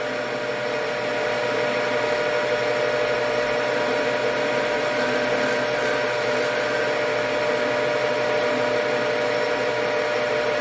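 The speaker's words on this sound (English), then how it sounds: "take a cup wheel and sharpen the bottom." A cup wheel grinds the bottom of a shop-made carbon steel dovetail cutter, a steady, loud abrasive whine and hiss that runs unbroken from start to finish with no pauses.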